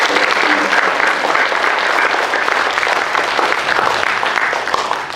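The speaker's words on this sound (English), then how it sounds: "can you please join me in giving Mrs. Perkins and Mr. Demon a big clap to say thank you." A school assembly audience claps for two departing teachers, Mrs. Perkins and Mr. Demon, in a dense, sustained wash of applause that stays loud and steady before easing slightly at the end.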